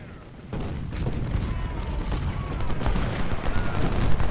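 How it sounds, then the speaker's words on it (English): Enemy cannon and gunfire rumble across a Civil War battlefield at Antietam in Ultimate General: Civil War, a dense, continuous low roar of distant artillery and musketry that swells after the first half second. "There's some enemy cannons."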